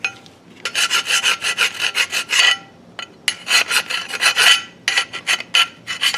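A Mercedes-Benz 2008 CLS 550 rear brake caliper bracket is scraped clean and deburred by hand with quick back-and-forth rasping strokes in two close, loud bursts separated by a short pause.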